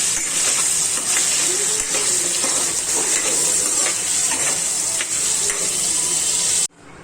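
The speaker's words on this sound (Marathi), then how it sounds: "आता मी हे पनीर जे आहे ते क्यूबमध्ये कापलेलं आहे आणि आता आपण ते पण तळून घेऊया" Cubes of paneer, about a hundred grams, fry in hot oil in a kadai with a steady, loud crackling sizzle, broken by faint scrapes of a spoon, until the sound cuts off abruptly near the end.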